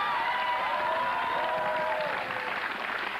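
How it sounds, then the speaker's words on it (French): Studio audience at a 1993 Belgian television quiz show applauds the competing team, a fairly faint, even wash of clapping and crowd noise with a tonal musical line sweeping over it throughout. "On va les applaudir et les encourager à vos chefs."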